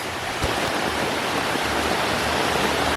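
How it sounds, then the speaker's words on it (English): Heavy rain pours down outside during a vacation in Costa Rica, a dense and steady rushing hiss that fills the whole stretch and stays constant, loud and close, with no voices. "Absolutely pouring."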